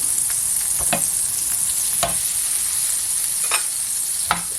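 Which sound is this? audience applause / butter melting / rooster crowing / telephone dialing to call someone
butter melting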